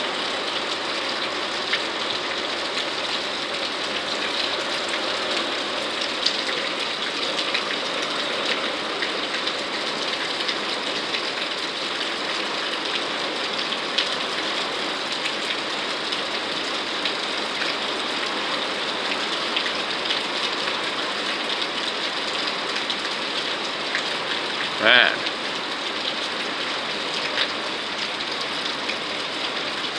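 Steady rain pours during a Mesa rainstorm with wind, a dense even hiss of drops on surfaces throughout, with a brief faint voice and one small knock near the end.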